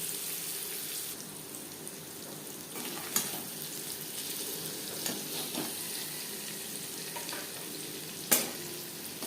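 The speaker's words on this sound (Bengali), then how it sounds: "লবণ হলুদ দিয়ে পনির হালকা করে ভেজে নেব।" Paneer cubes with salt and turmeric fry lightly in a pan, giving a steady soft sizzle throughout with a few brief clinks of a utensil against the pan.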